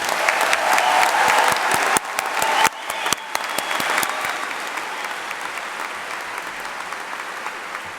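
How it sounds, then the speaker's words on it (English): A graduation crowd at Lee's Summit High School claps for the class of 2019, dense sustained applause that thins and eases after a few seconds, with a voice briefly audible at the start. "Let's give them a round of applause."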